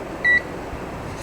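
A multimeter's continuity buzzer gives one short, steady beep while the five MOSFETs on an Acer A514 laptop board are checked for a short. The beep stands alone over a faint hum.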